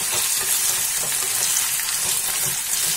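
Chopped tomato and potatoes with fenugreek leaves sizzle in a pan while being stirred, a steady close hiss with scraping strokes throughout and no voices.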